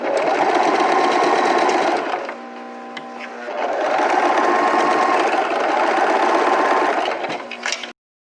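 Sewing machine stitching the neckline of a sleeveless summer dress, a steady, loud rapid whir that runs continuously, pauses briefly midway and then resumes until it stops abruptly.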